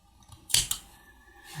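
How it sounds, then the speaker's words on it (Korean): Scissors snip through crochet yarn: one sharp close snip followed by a second small click, short and crisp in a quiet room with no talk. "그 다음에는 가위로 잘라내야 되는데요."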